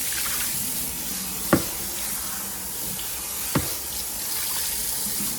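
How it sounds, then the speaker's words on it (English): Clean tap water runs into a bowl to rinse out soap suds, a steady close hiss of flowing water with two soft knocks against the bowl and no talking. "we're going to run some clean water and get the suds out of the bowl"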